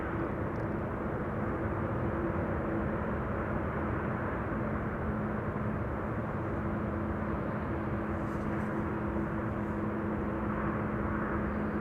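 A SAC heavy airlift transport aircraft passes at Amsterdam Schiphol Airport, giving a broad, steady roar that holds at an even loudness across the whole stretch with a faint tonal whine inside it and no talk.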